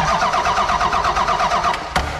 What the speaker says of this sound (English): Let's just see if she cranks.